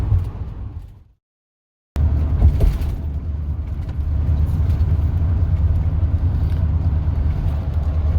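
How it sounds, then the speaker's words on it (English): Car driving through Trinidad, Colorado, heard from inside as a steady low road rumble that cuts out briefly near the start, then carries on continuous and loud. "Driving through Trinidad, Colorado."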